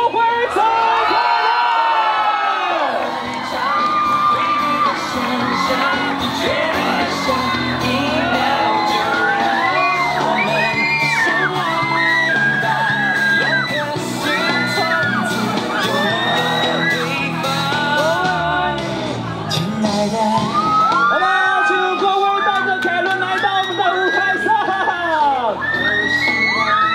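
A large crowd of about 30,000 baseball fans in a stadium cheers, shouts and whoops loudly and continuously to welcome a guest before a professional game, with an announcer's voice carrying over the noise.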